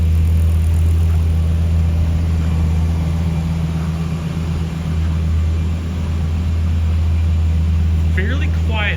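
A 2012 Lexus LFA sitting at idle, a steady low engine hum that stays fairly quiet and even, with a faint whir above it.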